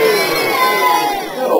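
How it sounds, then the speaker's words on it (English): A dense crowd at the Monsters Inc Laugh Floor lets out a sustained, loud boo that swells and dips without a break, with no talk over it. "Why are they booing me?"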